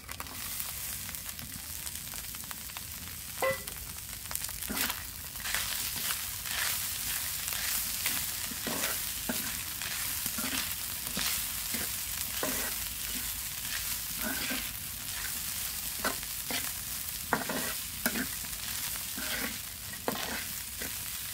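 Onion and garlic fry alongside pieces of bata fish in oil, making a steady, fairly quiet sizzle with repeated stirring strokes scraping the pan at an uneven rhythm.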